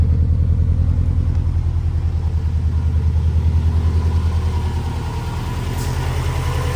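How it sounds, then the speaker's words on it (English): A 1996 Subaru Impreza with a swapped WRX engine rebuilt with forged pistons idles steadily, a loud, close, even low rumble with a regular pulsing beat and no speech. "Nice sounding idle."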